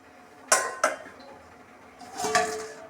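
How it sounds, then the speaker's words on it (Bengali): A metal lid set down on a cooking pot of simmering vegetables and stinging catfish, two sharp clanks followed by a softer rattling clatter, close and alone. "এখন আমি ঢাকা দিয়ে দিব"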